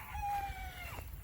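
A large fowl white crested black rooster gives a single short crow, a thin sustained tone that bends downward at the end, fairly faint against a soft low background rumble.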